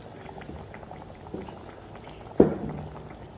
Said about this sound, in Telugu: బాగా మరుగుతుంది కదమ్మా